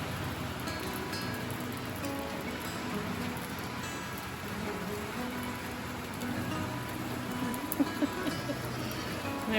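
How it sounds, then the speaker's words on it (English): Steady rain pours down across a goat farm, a dense continuous hiss with a few louder drips and splashes near the end, no voices. "So I am so happy to see this rain right now."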